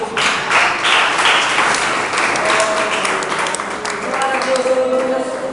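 A church congregation claps in praise during a sermon, with sustained dense applause filling the room, loud and continuous, while a preacher's voice carries over it.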